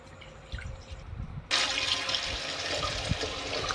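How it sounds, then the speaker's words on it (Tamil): Lentils for adai dosa batter are rinsed in water, starting with soft sloshing and splashing, then a sudden steady gush of running tap water fills in partway through and continues close and loud, with no voices. "இப்போ நல்லா அலசி எடுத்துக்கோங்க. நல்லா அலசிடுங்க. 2-3 டைம் வாஷ் பண்ணிடுங்க."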